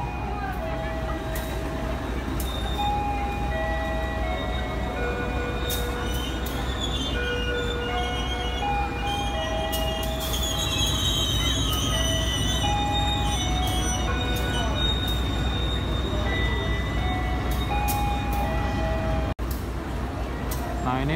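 A passenger train on the Jakarta to Bandung line rolls steadily with a constant low rumble, punctuated by repeated high-pitched wheel squeals and some faint voices in the carriage.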